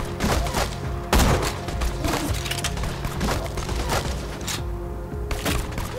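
Explosions and gunfire in the shooter Borderlands 2, a dense clatter of thuds and booms with one heavy blast early on and steady combat noise throughout.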